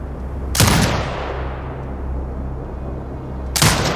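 A turret in a video game fires two heavy, booming gunshots about three seconds apart, each with a long rumbling decay over a low steady hum.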